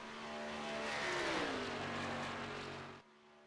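A race car engine in a racing video game at Talladega speedway holds a steady, loud drone, then its pitch bends lower as it laps, before cutting off abruptly near the end.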